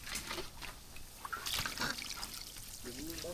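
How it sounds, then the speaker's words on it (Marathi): Fresh water poured and splashed over cut fish being washed by hand, soft trickling and dribbling with small splashes, faint and close, with a voice talking in the background. "आता परत एकदा गोऱ्या पाण्याने आपण धुवून घेऊ मासे."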